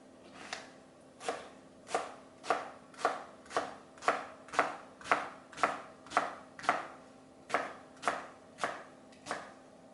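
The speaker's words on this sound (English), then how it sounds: "really roughly cutting it. I'm not peeling the potatoes." Knife chopping unpeeled potatoes roughly on a cutting board for pumpkin soup, a steady run of about sixteen crisp, evenly spaced chops, close and clear with no talk.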